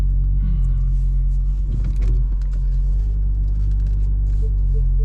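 Inside an Audi RS3 during a turnaround on a road, a steady low engine and road rumble hums throughout, with a few faint clicks and knocks from the cabin.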